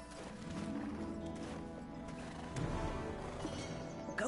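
Horse hooves clip-clop steadily in Black Desert Online as a mount is ridden across open ground, set against a continuous bed of game ambience and music.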